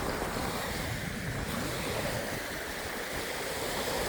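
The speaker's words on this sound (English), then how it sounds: "With that wind blowing." Strong wind roars across an open beach in May, buffeting the microphone with a constant heavy rush that blends with breaking surf, steady and loud throughout with no voices.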